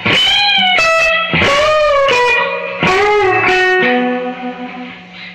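A short distorted electric guitar lick with quick picked notes and a bend, ending on a sustained note that fades out.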